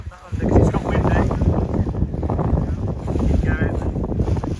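Strong gusty wind roars and buffets the microphone in an open field where a paraglider is being packed, loud and continuous with fluttering bursts, and voices talk faintly beneath it.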